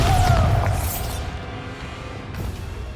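A Bombarda spell explosion in Hogwarts Legacy lands as a loud, deep boom that rolls off with a rushing, crackling tail, followed by a brief swoosh near the end.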